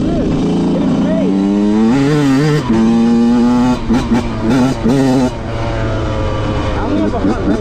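A Yamaha YZ125 two-stroke dirt bike rides a snowy trail, its engine revving and shifting up and down in a loud, buzzy wail close to the rider, with wind noise throughout.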